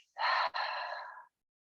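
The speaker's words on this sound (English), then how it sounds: "Let's inhale through the nose with ease. And then exhale, open the mouth." A single cleansing breath during a yin yoga class: a short audible inhale, then a longer, breathy exhale through an open mouth, close and fairly soft, followed by silence.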